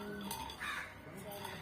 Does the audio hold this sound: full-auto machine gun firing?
no